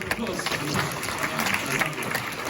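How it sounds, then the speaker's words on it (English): A round of applause opens a stage show of The Importance of Being Earnest, following a birthday song, with dense, steady clapping from a crowd close by. "Well done, round of applause"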